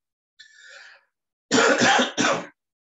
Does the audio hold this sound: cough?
yes